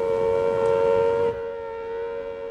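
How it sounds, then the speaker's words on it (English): A civil defense air raid warning siren sounds a loud, steady wail that stays level, then drops sharply partway through and carries on quieter to the end. "When you hear these warning sirens,"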